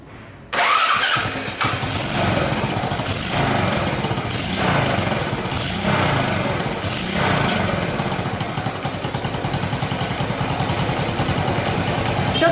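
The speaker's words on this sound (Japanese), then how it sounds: "もう一回エンジンかけましょうかね。" A Honda Super Cub motorcycle engine, just repaired for an exhaust leak at the muffler, starts and runs at a steady, throbbing idle, close and loud, with no talking.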